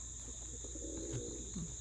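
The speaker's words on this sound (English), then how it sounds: "fancier pigeons are down here, which most of them are actually still just homers" Pigeons, mostly homing pigeons, cooing softly in a loft, low throaty coos heard faintly a few times against a steady background hum and insect-like buzz.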